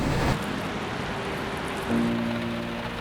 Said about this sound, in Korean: 비가 지금 살짝씩 내리고 있어요.